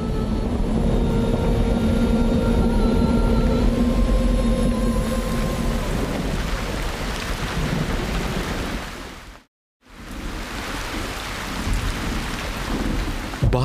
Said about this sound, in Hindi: बारिश की बूंदों ने जंगल में जान डाल दी।